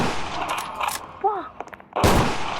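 Gunfire in the video game Dead Rails: a short burst of loud shots at the start, a sparse middle with a few tonal game sounds, then another heavy burst of fire near the end.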